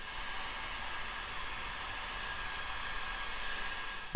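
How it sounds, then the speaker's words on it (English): Heat gun blowing a steady hiss of hot air to shrink heat shrink tubing over wire connections during a Toyota 4Runner radio install, an even continuous whoosh with no pauses that ends with a brief click. "we'll use a heat gun and shrink the tubes"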